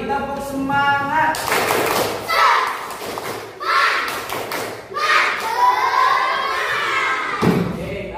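A class of fourth-grade children performs a rhythmic group clapping chant in an Indonesian primary school lesson, sharp claps and thuds mixed with loud chanting voices, fairly close and continuous throughout.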